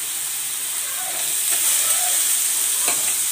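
Egg tadka fries in a pan with a steady, close sizzle and hiss, broken by faint stirring scrapes.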